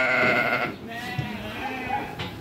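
A merino sheep bleats loudly nearby in a drawn-out, wavering call, followed by fainter rustling and a softer second bleat.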